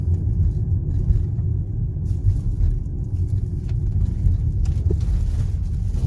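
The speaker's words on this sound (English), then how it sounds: "That sound you heard is a cattle crossing." A vehicle drives over a cattle crossing on a dirt road near an interstate, giving a steady loud low rumble of tyres and engine throughout, with brief rattling bumps as it passes over the grid.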